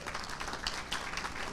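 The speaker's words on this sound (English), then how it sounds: "Give yourselves a round of applause." Audience applause at a Kessler Scholars senior celebration: a steady, soft wash of many hands clapping throughout, fairly faint and without distinct individual claps.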